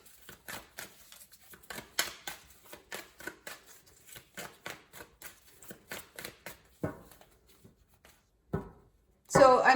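Tarot cards are shuffled by hand in a steady series of quick riffling bursts, close and crisp, with pauses between them and a louder rustle at the end.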